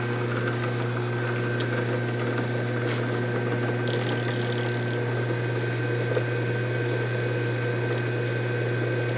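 A machine drills holes through fasteners for lock wire (safety wire), giving a steady mechanical hum with constant tonal whine and faint high scraping, continuous and close, with no speech.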